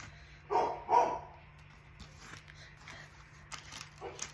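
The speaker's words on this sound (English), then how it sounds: "There's the dog again." A dog barks twice in quick succession, slightly distant, then gives way to quiet indoor room noise with faint household sounds.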